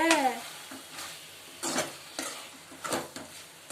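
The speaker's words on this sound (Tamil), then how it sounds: "இந்த இறால் வந்துட்டு கொஞ்சம் சுருளணும்." Prawns for a gravy sauté quietly in a pan, heard as soft sizzling broken by a few short scraping bursts from stirring, after a brief vocal sound at the start.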